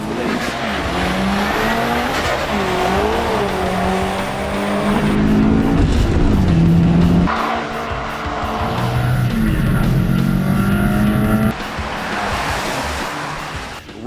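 A heavily tuned Subaru STI with Cosworth and HKS parts, loud and close, its engine roaring and shifting through a hard run for about fourteen seconds, with tire noise mixed in and no talking.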